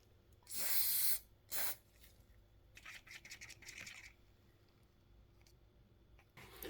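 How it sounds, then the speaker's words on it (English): Two short, loud hissing bursts from an aerosol hairspray can sprayed onto resin, followed by quieter crackling and scratchy sounds. "I'm going to increase the spray amount"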